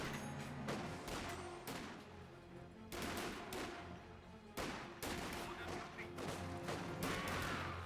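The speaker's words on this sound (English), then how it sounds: "Volkswagen is firing away, hitting that rifleman." In Company of Heroes 2, a Volkswagen vehicle fires on a rifleman amid a busy battlefield, with loud, repeated bursts of gunfire and sharp crackling shots running without pause.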